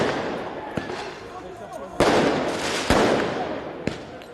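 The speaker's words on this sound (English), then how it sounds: "Fireworks and other projectiles were thrown at police." Fireworks bang and crackle in a Paris street during clashes with police after Paris Saint-Germain's Champions League victory, sharp loud blasts at intervals over a constant rumbling crowd roar.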